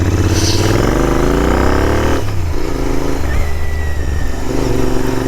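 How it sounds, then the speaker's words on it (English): A Royal Enfield Interceptor 650 motorcycle rides along: its engine revs climb steadily, drop sharply after a couple of seconds, then settle into a steady, loud, close running note. "let's get on the bike and let's do some riding"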